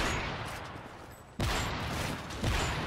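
Gunshots in an Xbox 360 video game: bursts of loud, close gunfire with two sharp new volleys breaking in over a continuous rattle, no talking.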